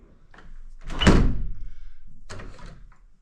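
A balcony door in a Brussels apartment slides open with a loud rumbling thunk, then a sustained rolling scrape, followed by a second softer rattle as it settles, close by with no speech.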